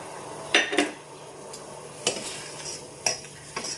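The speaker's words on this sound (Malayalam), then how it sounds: "നമുക്ക് ഈ തേങ്ങ മുറിച്ചതിട്ട് കൊടുക്കാം" A spoon clinks and scrapes against a pan as coconut pieces are stirred into thick jaggery syrup. Several sharp taps come at uneven intervals over a faint bubbling sizzle, with no talking.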